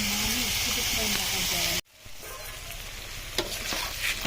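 Hilsa fish roe frying gives a strong, close sizzle that cuts off abruptly, then returns as a quieter, softer crackle with a few clinks of stirring and a faint voice underneath.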